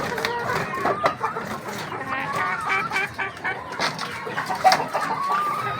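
Boston Black hens clucking in a backyard breeding pen, a steady chorus of overlapping close clucks and calls, with a person talking faintly.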